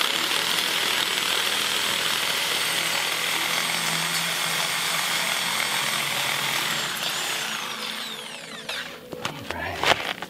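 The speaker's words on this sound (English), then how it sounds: "Let's see if I can cut a little bit of this rebar." Power cutting of steel rebar at a road culvert, a loud steady grinding whine that holds for about eight seconds before breaking into scattered clanks and scrapes near the end.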